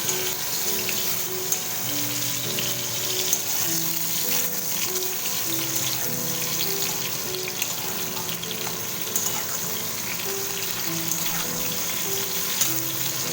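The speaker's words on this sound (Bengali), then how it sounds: "পটলটা উল্টে পাল্টে ভালো করে ভেজে নিচ্ছি" Pointed gourds (potol) frying in oil, making a steady, dense sizzle heard close up, with a few faint ticks and clicks as the pieces are turned.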